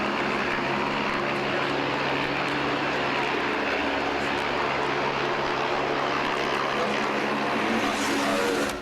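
An Airbus A380 jet on its first flight gives a loud, steady roar of engine noise that holds unbroken for the whole stretch, with no voices.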